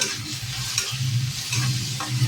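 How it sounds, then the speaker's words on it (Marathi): Onion and tomato sauté in a pan for veg kheema, with a steady close sizzle and repeated stirring scrapes running throughout, no voices. "आता ह्याच्यामध्ये टोमॅटो घालूया. टोमॅटो पण आपण छान परतून घ्यायचे."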